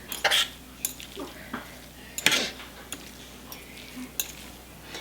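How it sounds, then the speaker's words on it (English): A fork scrapes and clinks against a dish while pulling apart slow cooked pork, giving a series of irregular, close scratchy taps with soft moist tearing sounds between them. "I'm just pulling it apart, as you can see, with the fork, and it's just falling apart"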